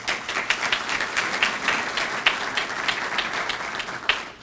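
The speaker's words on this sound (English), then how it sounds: "Let's have a big round of applause" A ceremony audience at a Union City Hatzalah event gives a big round of applause, dense clapping from many hands with sharper individual claps standing out, loud and continuous for several seconds.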